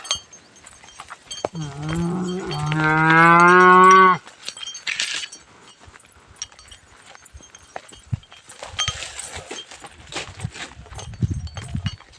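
A single cow gives one long, loud moo that rises and holds for a couple of seconds, followed by quieter farmyard shuffling, clatter and faint low sounds.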